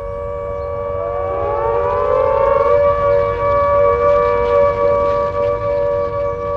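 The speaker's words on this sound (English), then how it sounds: "After they stopped bombing us, they sound the all clear." A wartime air raid all-clear siren rises in pitch and then holds a steady, loud, continuous wail on a single tone over a low rumbling background, with no talking.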